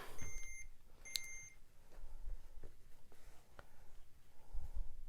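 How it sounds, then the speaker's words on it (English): A few short, high electronic beeps from a clothes iron reaching temperature sound near the start, then a quiet stretch with faint room noise and light handling sounds. "Apologize for that beeping. That was my iron coming to temperature."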